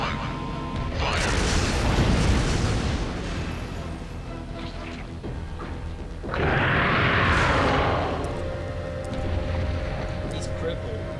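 A heavy weapon in Resident Evil 3 firing at Nemesis, with two long, loud blasting roars several seconds apart over constant game noise, and a voice talking throughout.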